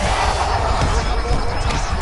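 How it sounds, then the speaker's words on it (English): A dense arena crowd roars steadily throughout a fight in the UFC 5 video game, a loud, continuous wash of cheering and shouting with no clear breaks. "An appreciative crowd obviously getting behind both fighters."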